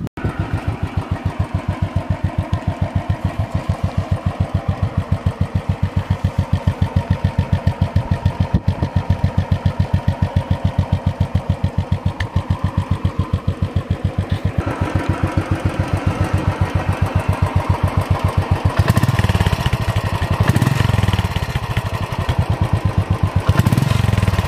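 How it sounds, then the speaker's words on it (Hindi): A Royal Enfield motorcycle runs steadily for the whole stretch, with a regular thumping exhaust beat over the engine's mechanical clatter. It stays loud and close, and a few heavier bursts come near the end. "तो चलिए इसका साउंड सुनते हैं, एग्जॉस्ट साउंड प्लस जो इंजन का साउंड है सुनते हैं।"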